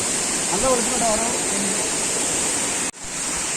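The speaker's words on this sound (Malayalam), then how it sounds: "ഈ ഒരു വെള്ളച്ചാട്ടം ഇങ്ങനെ മേലിന് ഇങ്ങനെ ഒഴുകി വന്നതാ" A forest waterfall pours with a steady, dense roar that fills the whole stretch, with faint voices underneath and a brief dropout near the end.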